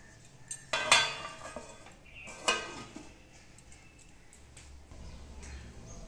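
A metal lid clinks onto a cooking pot of cabbage with fish head, two sharp clanks followed by a low simmering background.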